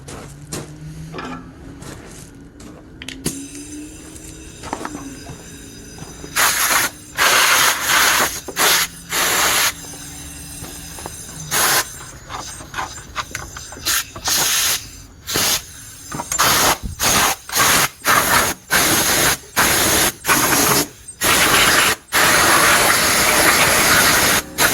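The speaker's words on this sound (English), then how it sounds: "Let me grab my compressor hose." Compressed air from a compressor hose blasts debris out of a mower's Kohler engine, steady hissing with repeated loud, sharp bursts that start and stop in quick succession, close by and with no talk.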